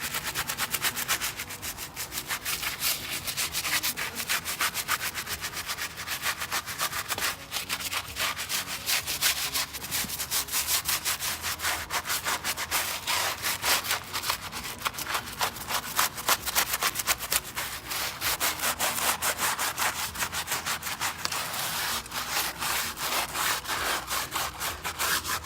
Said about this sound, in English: So let's go ahead and give this a scrub